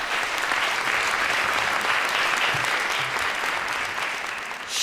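A large audience at a Hindi poetry recital breaks into steady, loud applause that fills the room, continuous dense clapping lasting several seconds before easing slightly at the end.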